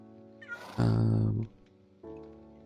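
A single loud cat meow in the video game Minecraft, preceded by a faint chirp and followed by a steady tonal hum from the game.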